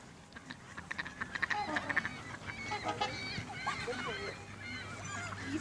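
Geese honk repeatedly in a lively, irregular series of nasal calls nearby, with faint voices and outdoor background murmur underneath.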